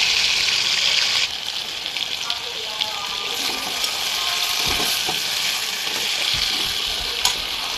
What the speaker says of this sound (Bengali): এখন ভেজে নেব মুরগির মাংসগুলো